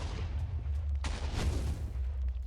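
Fireball explosion in the Avatar: Master of Elements video game: a muffled boom with a rushing burst over a steady low rumble, moderately loud and alone.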